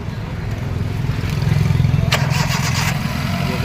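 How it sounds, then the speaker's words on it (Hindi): A Hyundai Eon car engine runs steadily in a service workshop during an engine flush, giving a continuous low idling rumble with occasional light clatter, close and even throughout. "गाड़ी चालू कर दो 10 मिनट के लिए।"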